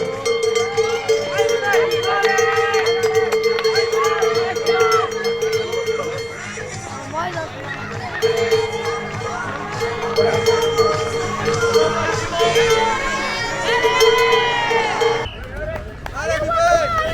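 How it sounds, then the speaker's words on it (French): Spectators at a cross-country race in Hannut cheer and shout encouragement to passing runners as a cowbell clangs repeatedly, the crowd noise close and busy with overlapping voices. "Allez, on les applaudit bien fort."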